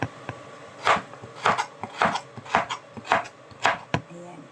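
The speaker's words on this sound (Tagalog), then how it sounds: "At isunod naman po natin ang ating carrots into stripe." Knife chopping carrots into strips on a cutting board, about eight sharp, evenly spaced thuds in a steady rhythm, close and distinct with no talking.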